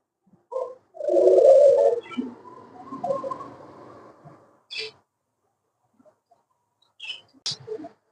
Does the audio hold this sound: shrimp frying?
no